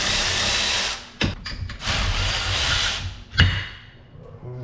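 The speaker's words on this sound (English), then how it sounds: "So I can relieve the 6 bolts on the top here, and a lot of people use a 10mm on those." Ratchet wrench clicking on the clutch cover bolts of a 2023 Polaris RZR 900 side-by-side: close, bursts of rapid ratcheting broken by short pauses and a couple of sharp knocks, no talk.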